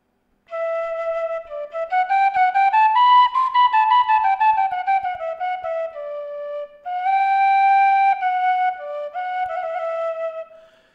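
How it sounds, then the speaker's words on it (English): A tin whistle plays a continuous melodic tune, clear and close with breathy sustained notes and quick ornaments, loud and alone without speech. "We used instrument called tin whistle and it sounds like this."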